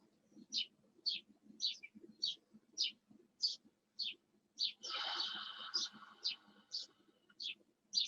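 A sparrow outside a window chirps in a regular series of short, bright notes, with a brief burst of rustling noise midway and a faint murmuring voice low underneath.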